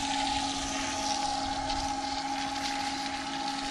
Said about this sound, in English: So we can turn that pump on.